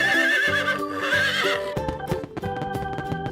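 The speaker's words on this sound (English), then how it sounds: "This is a horse." A horse neighs loudly in a long, wavering whinny, then its hooves clip-clop in a quick, close, rhythmic patter with no talking.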